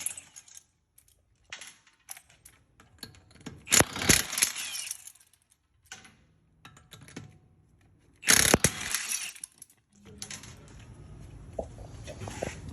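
Ratchet working on the front wheel of a 2011 Lexus LS460, sharp metallic clicking and clattering in uneven bursts with quiet gaps between, close and fairly loud, no talking.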